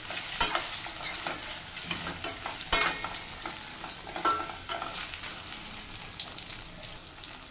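Taro pieces fry in a pan while a spoon stirs them, giving close, irregular scraping and stirring strokes over a soft, steady sizzle.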